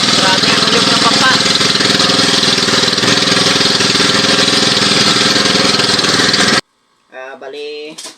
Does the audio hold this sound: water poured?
no